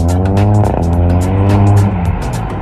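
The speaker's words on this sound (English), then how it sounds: "Group of lads drifting in the car park, making an absolute racket" Cars drift around a car park at night, tyres squealing loudly in long wails over revving engines, the screeching rising and falling in sustained passes close by.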